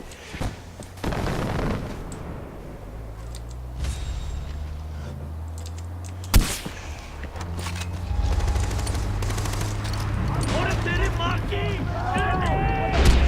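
Mortar rounds and gunfire in Far Cry 4: bursts of shots and booms with one sharp loud blast midway, over a steady game backdrop while a voice talks at times.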